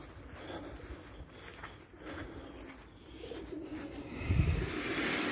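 A racing pigeon cooing near a loft, soft low coos rising near the end over a steady background hiss, fairly close and moderately quiet.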